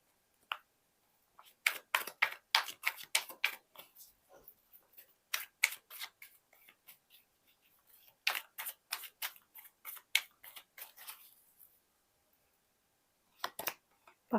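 Tarot cards shuffled and drawn from a deck, a quick run of crisp flicks and slaps in bursts with brief pauses, close and fairly quiet with no talk.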